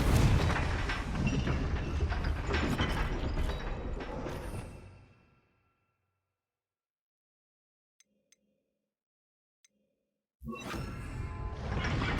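A Confringo spell cast in Hogwarts Legacy on PS5 lets off a loud, dense burst of fiery blast and crackle for several seconds before fading to near silence, broken by a few faint clicks, then a second loud burst near the end.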